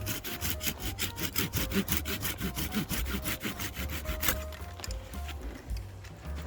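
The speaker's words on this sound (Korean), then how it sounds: "자 굵은 가지 크게 크게 쳐낼 것을 쳐냅니다." A hand saw cuts through a thick peach tree branch during pruning with fast, rhythmic back-and-forth rasping strokes, close and steady, then slows and roughens toward the end.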